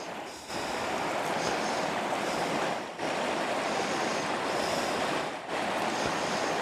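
Fast water rushing steadily through a gold sluice mat fed by a pump, a loud continuous wash with two brief dips, with no talk.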